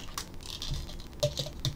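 Quick clicky keystrokes on a computer keyboard, a few scattered presses and a short burst near the end, close and fairly quiet during setup of a hacked ESP8266 smart socket.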